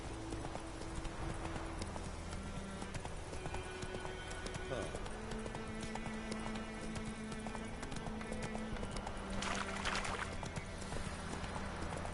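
Horse hooves clip-clop in a steady galloping rhythm through a 12-second ride in The Witcher 3, loud and continuous under a layer of game music, with a brief vocal sound partway through.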